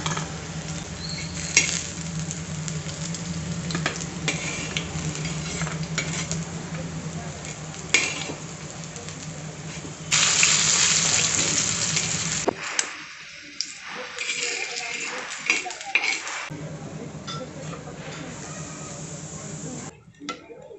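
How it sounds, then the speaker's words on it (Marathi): Eggplant slices shallow-fried in a little oil give a steady, close sizzle with scraping and clinking of a utensil against the pan. The sizzle drops away for a few seconds near the middle and returns before the end. "अगदी थोड्याशा तेलात आपण सर्व वांग्याचे काप तळून घेतलेले आहेत"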